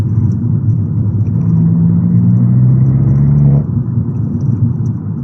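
An Abarth car with a Toyosports exhaust drones steadily with a low, throaty exhaust rumble while driving with the windows down, swelling briefly as it pulls harder, then easing back.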